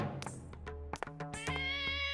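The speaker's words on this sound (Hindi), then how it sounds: "हमने कुछ बिल्लियों को ढूंढ कर निकाला है" A cartoon cat meows several times in quick succession, clear and close, the last meow drawn out longer than the rest.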